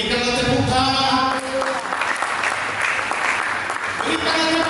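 A church congregation claps together in a sustained burst of applause that fills the room, mixed with a steady tonal background and a voice at the start and end.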